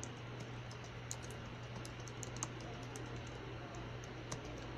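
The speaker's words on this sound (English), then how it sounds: "I'm typing when I'm not seeing the words." Typing on a computer keyboard, a quiet irregular run of soft key clicks heard close and alone over a steady low hum.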